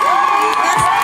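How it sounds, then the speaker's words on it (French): Live audience at a TF1 dance show touring stage in Lourdes cheering and shouting in a dense, loud burst of crowd noise, with high shrill voices on top. "On peut l'applaudir très fort."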